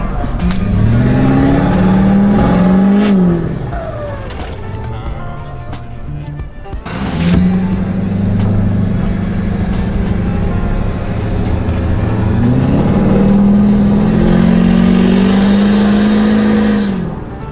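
A big truck engine revs up and down over about seventeen seconds, its pitch climbing and falling, loud and close, with a brief drop in the middle.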